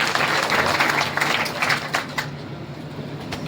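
A crowd at an outdoor public ceremony in India claps to welcome a guest, a dense, busy patter of many hands heard at moderate distance that thins out and fades after a few seconds.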